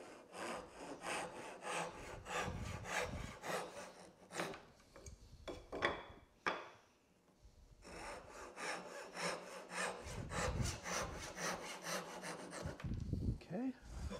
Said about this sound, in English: I'll just use the Japanese saw to cut this top.